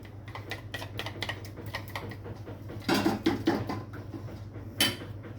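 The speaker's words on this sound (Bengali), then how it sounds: "এখানে আমি ডিম আর কর্নফ্লাওয়ার ভালো করে গুলে নিচ্ছি।" Egg and cornflour being whisked together in a bowl give a fast series of sharp clicking taps against the bowl, close and fairly quiet, with a few louder bursts of clatter.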